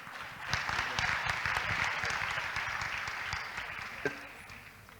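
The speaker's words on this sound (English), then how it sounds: "A big round of applause to my beautiful girls here" An audience applauds at a tourism leadership forum, sustained even clapping from a sizable crowd throughout, with speech faintly mixed in underneath.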